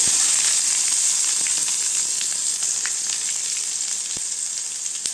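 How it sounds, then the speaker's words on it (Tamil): Mustard seeds, cumin and onion frying in hot oil for a chow chow and chana dal poriyal, making a loud, continuous hiss and sizzle with faint crackles throughout. "எண்ணெய் ஊற்றி வச்சுக்கிட்டேங்க கடுகு சேர்த்துக்கலாம் அடுத்து ஜீரகம் சேர்த்துக்கலாங்க வெங்காயம் சேர்த்துக்கலாம்"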